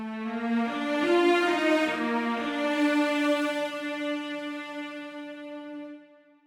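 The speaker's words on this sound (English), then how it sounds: "you slow down the bow, and so the intensity and the volume produced by the instrument drops" Sampled bowed strings play a sustained phrase whose final note swells and then fades as the bow slows, the volume dropping away smoothly at the end, alone with no talk.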